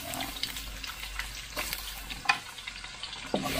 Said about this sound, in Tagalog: magigisa tayo ng luya